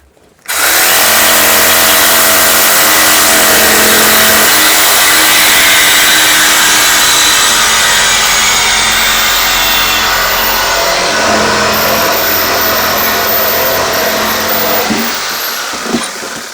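Cutting through the rear exhaust of a 1996 Jaguar: a loud, close, continuous grinding cut that holds steady for about fifteen seconds with no talking, then tapers off at the end.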